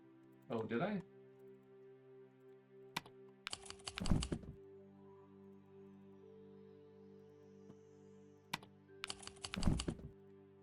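Computer keyboard typing clicks in short rapid bursts, a cluster near the start, a longer one around four seconds and another near the end, set against steady music with a faint voice.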